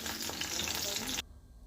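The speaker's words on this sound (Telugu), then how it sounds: "ఈ పచ్చిమిరపకాయల్లో కొంచెం నూనె వేసుకున్న తర్వాత కొంచెం బాగా ఫ్రై చేసుకోవాలన్నమాట" Green chillies sizzle loudly in hot oil for just over a second, a dense crackling hiss that cuts off abruptly to near quiet.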